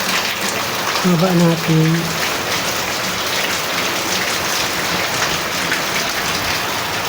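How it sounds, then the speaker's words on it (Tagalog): Heavy rain pours steadily onto surfaces as a loud, constant hiss that fills the whole stretch, with someone speaking briefly near the start over the downpour. "Ang lakas talaga ng ulan"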